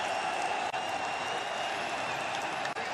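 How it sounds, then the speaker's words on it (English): A capacity stadium crowd applauds a footballer leaving the pitch at an African Nations Championship match between Kenya and Morocco, a steady dense wash of clapping and crowd noise throughout, fairly distant and without clear talk. "Squad captain Aboud has a word with Irambo, who's applauded off by the capacity crowd."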